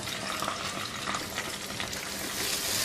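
Spiced milk-and-chili mixture cooking in oil on the stove until the oil separates, giving a steady, moderately loud sizzle and frying hiss throughout with no talk.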